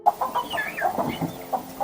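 A hen in a hen house clucks rapidly in short, agitated bursts while a fox attacks, the calls near and fairly loud throughout.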